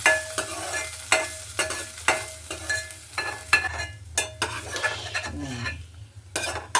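Amla and other ingredients crackle and sizzle in a hot pan for pickle, stirred with repeated sharp scrapes and clinks of a utensil against the metal, close and fairly loud.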